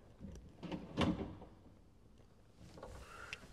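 A blind corner kitchen cabinet pull-out slides out with a soft rolling rumble and a firmer clunk partway through, then quieter sliding and rattling, close and fairly faint.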